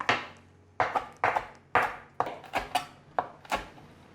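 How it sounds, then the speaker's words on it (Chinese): A knife chops fresh coriander leaves on a cutting board, with about a dozen crisp, close knocks falling in uneven clusters and short pauses between them. "香菜叶子剥下来了，现在来把它切碎。"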